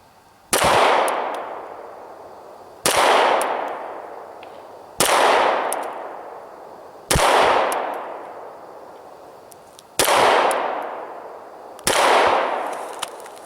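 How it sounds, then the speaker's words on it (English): Six sharp, loud SAR B6P pistol shots are fired at 7 yards, each a hard crack with a ringing decay, spaced about two seconds apart on an indoor or range setting with no talking. "I'm going to shoot some headshots now at 7 yards."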